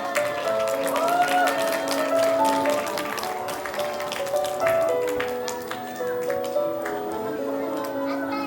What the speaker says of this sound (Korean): 박수와 함성으로 페리반 친구들 만나볼게요